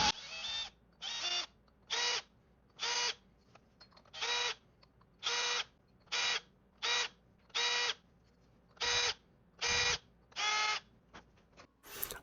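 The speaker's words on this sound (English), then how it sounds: "We'll deburr the holes." Power tool deburring drilled holes in a custom-made wheel hub, a series of about thirteen short, evenly spaced whirring bursts, each under a second, separated by brief pauses.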